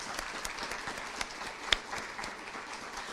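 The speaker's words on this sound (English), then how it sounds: "So let's applaud our colleagues." Scattered applause from an academic audience at an end-of-year celebration honoring colleagues' promotions, soft and somewhat distant clapping with a few sharper claps standing out.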